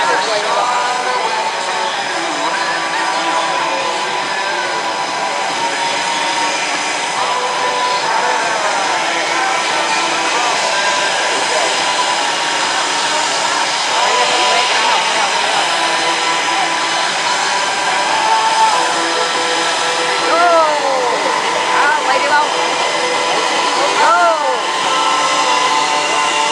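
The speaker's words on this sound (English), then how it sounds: "The Blue Angels taxi" Blue Angels jets taxiing at the Chippewa Valley Airshow, a steady loud jet-engine whine and roar that holds throughout with slight rises, and crowd voices faintly underneath.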